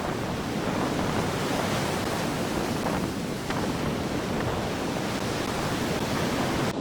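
Ocean waves roll and break continuously at Godrevy, Cornwall, near the lighthouse, a loud, steady roar of surf blended with gusting wind buffeting the microphone.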